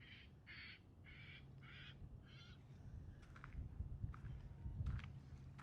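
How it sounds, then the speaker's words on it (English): A bird calls outdoors in a video game scene, sounding about five clear, evenly spaced chirping notes. Scattered clicks and soft steps follow over a steady low background, with no talking. "Y'all hear that bird?"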